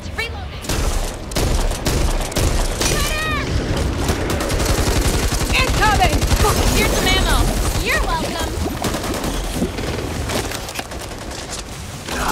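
Gunfire in the zombie shooter video game Back 4 Blood, a dense sustained burst of rapid shots and loud blasts lasting several seconds, with characters' voices and shouting mixed in over the shooting.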